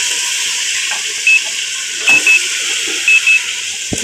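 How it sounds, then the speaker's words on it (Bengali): Meat dropped into a hot pot of fried spices for kacchi biryani gives a steady, bright sizzling hiss that fills the whole clip, with a few faint clinks and a soft knock near the end. "এখন আমরা মাংসটা ছেড়ে দেব।"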